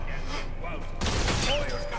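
Gunfire in Batman Arkham Origins during a clash between Penguin's men and Mr. Freeze, a dense crackling volley that grows louder and busier halfway through, with talk running underneath.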